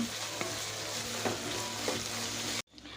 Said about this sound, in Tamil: இந்த வெங்காயத்தை போட்டுடலாம் இதில் இந்த வெங்காயம் நல்லா வதங்கி வரட்டங்க